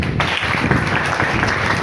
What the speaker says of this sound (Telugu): వారికి కూడా చప్పట్లు కొట్టండి.